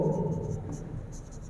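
Chalk or marker writing a chemical formula on a board during an organic chemistry lesson, a steady scratchy stroke running through the whole moment, fairly close and moderately loud, with no talk over it.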